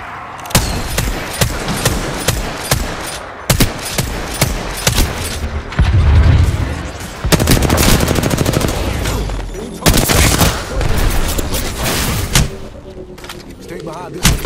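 Loud bursts of automatic gunfire in a video game, rapid volleys broken by short pauses and then resuming at close range, with a voice speaking between them.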